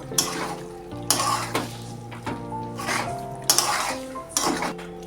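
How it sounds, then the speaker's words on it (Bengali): Boiled jackfruit being stir-fried in a pan, with repeated scraping and clanking of a metal spatula against the pan in irregular strokes, close by and without speech. "এখন দিয়ে দিচ্ছি সেদ্ধ করে রাখা এঁচড় ভালো করে কষিয়ে নেবো"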